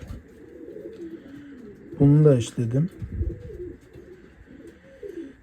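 Pigeons cooing inside a pigeon coop, a loud burst of close cooing calls in the middle, softer coos before and after, and someone speaking quietly nearby.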